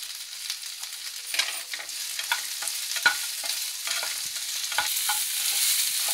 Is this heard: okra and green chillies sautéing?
yes